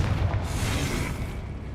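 A Confringo blasting spell detonates in Hogwarts Legacy, a brief deep boom with a rumbling burst that fades quickly, loud and close.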